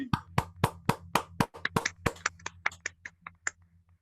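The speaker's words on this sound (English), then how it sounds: "round of applause." A small group claps at an online opening party, around twenty distinct, close hand claps in an uneven rhythm that thins out and fades over a few seconds, with no talk.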